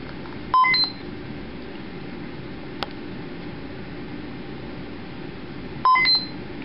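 A Dell XPS M1710 laptop gives short electronic beeps during its diagnostic test, a quick cluster near the start and another near the end over steady fan-like hiss, with a faint click between them.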